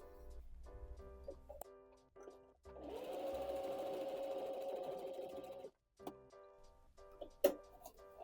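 A sewing machine runs a test seam in a steady mechanical whir for about three seconds, framed by quieter clicks and handling sounds before and after.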